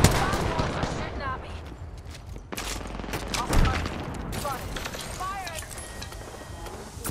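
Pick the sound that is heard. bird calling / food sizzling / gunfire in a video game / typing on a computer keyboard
gunfire in a video game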